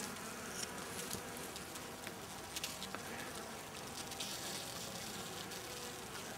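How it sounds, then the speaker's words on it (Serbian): Honeybees feeding, crowded into a plastic bag, make a soft, continuous insect buzz with small flickers of wing noise, fairly quiet and heard alone. "pčelice nabile u ovu kesu."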